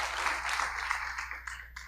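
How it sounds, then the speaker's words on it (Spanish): Church congregation applauding during a Spanish-language sermon, a brief burst of dense clapping that stays fairly steady and then tapers off near the end. "¿Cuántos dan un aplauso a Dios por eso?"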